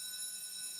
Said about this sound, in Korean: 방금 들으신 소리는 화재 경보